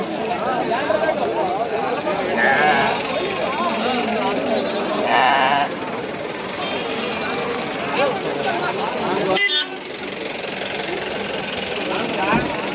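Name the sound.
sheep bleating at a sheep market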